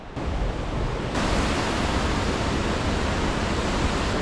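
A glacier-fed river rushes nearby in remote wilderness, a loud continuous broadband roar of flowing water that swells slightly after the first second and holds steady with no talk.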